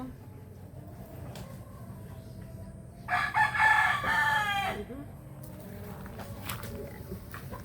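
White Kelso gamefowl roosters crowing at Tulusan, one clear, fairly close crow lasting about two seconds over steady outdoor background noise, followed by faint distant sounds.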